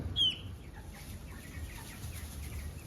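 Heavy meat chickens cluck and squawk while being handled, with one sharp, close squawk at the start and then softer, scattered clucks over low handling noise.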